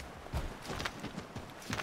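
A horse's hooves clip-clop at a steady riding gait in Assassin's Creed 3, several soft, evenly spaced thuds at moderate distance with no talking over them.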